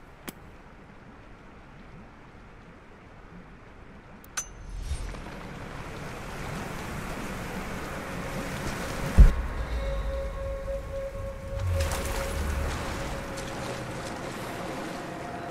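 Water sloshing and lapping inside a glacier cavern in Rise of the Tomb Raider, a steady wash of low rushing water that swells midway, with a few sharp knocks and no speech.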